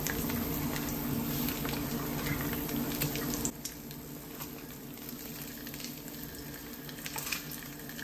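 Flipped egg frying in a pan on a home stove, a steady soft sizzle and bubbling patter that drops a little in level partway through, with no talking.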